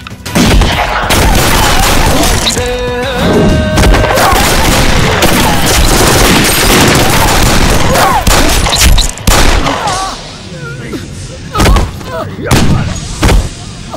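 Heavy covering gunfire in an action film: dense bursts of rifle and machine-gun shots with booming explosions, loud and near, continuous for most of the stretch with brief lulls, and a few shouted voices mixed in.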